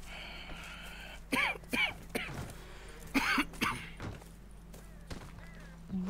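A character in the Red Dead Redemption 2 video game coughs in several harsh, throaty bursts spread over a few seconds, fairly close and loud above a low, steady game ambience.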